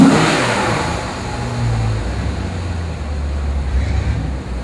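A 2004 Maserati Cambiocorsa Coupe revs hard while driving on a test drive, its engine surging loudly up close and holding a strong steady roar, with no talking.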